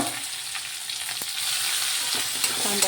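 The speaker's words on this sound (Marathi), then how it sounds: "कांदा फ्राय होऊ देणार" Onion frying in a pan, a soft continuous sizzle with faint crackles and a few light stirring sounds, close and alone.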